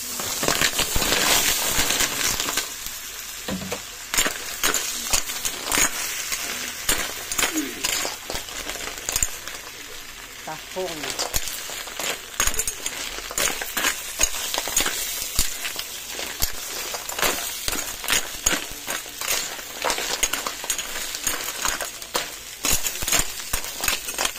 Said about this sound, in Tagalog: Mix na natin guys yung tahong.